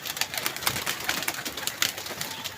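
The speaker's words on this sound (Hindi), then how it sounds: "पकड़ लिया जी कबूतर" A pigeon caught in a net coos softly among scattered fluttering and rustling, close by with no talking.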